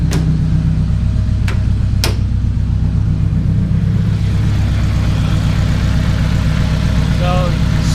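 Supercharged Porsche GT3 with a stage 2 supercharger kit and a smaller pulley, smoking and needing a new bottom end, idles with a steady low rumble close by; a few sharp clicks land early on.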